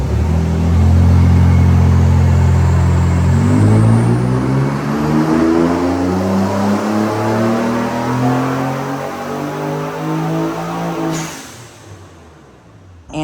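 Car engine pulling hard on a dyno, a loud close roar that climbs steadily in pitch through a long rev run before cutting off and winding down, without speech.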